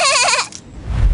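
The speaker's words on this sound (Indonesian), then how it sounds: "Oh, domba kecil terjebak di dalam semak." A little cartoon sheep gives a short, wavering bleat, loud and close, that breaks off into a low rumbling noise.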